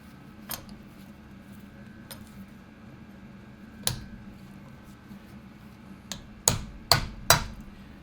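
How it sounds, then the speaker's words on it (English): Sharp metallic taps as a metal insert is driven into a guitar string canister, a few scattered single knocks followed by a quicker cluster of three or four louder taps near the end, close and otherwise quiet. "It'll take a little bit of tapping, but there we go."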